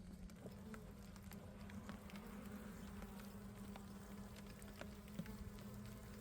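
Honeybees in a weak, small hive hum in a steady low drone close by, with faint scattered ticks and taps throughout.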